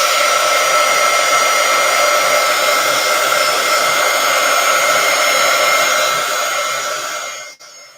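A hair dryer blows steadily and loudly on a mixed media artwork, its constant airy roar holding for about seven seconds before it cuts off.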